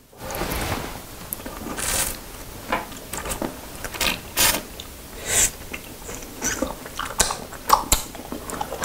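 Wax bottle candy is chewed and bitten up close, with sticky, squelching mastication sounds and sharp crunchy bites repeating irregularly, no talking.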